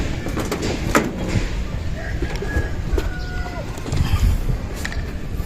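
Racing pigeons resting at a loft after training, with soft cooing calls scattered over a busy background of rustling, shuffling and occasional knocks, fairly close.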